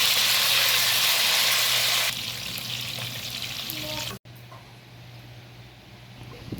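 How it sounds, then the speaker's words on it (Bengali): Boiled eggs frying in hot oil in a kadai while being stirred, a loud dense sizzle that drops in level midway, then continues more quietly after a brief cut. "প্রথমে কড়াইতে আমরা তেল দিয়ে গরম করে তাতে সিদ্ধ ডিম দিয়ে ভালোভাবে নেড়ে চেড়ে ভেজে নেব।"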